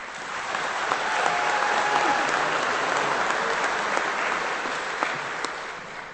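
A graduation audience at a Washburn Tech spring commencement evening ceremony claps steadily as a student speaker comes to the stage, a dense, sustained wash of applause that swells and slowly tapers.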